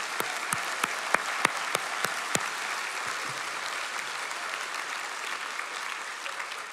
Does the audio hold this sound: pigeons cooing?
no